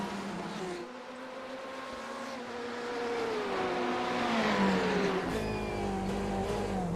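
Race car engines at Watkins Glen in a racing video game, a sustained loud engine drone whose pitch rises and falls through gear changes as cars run close together, steady throughout with no voices.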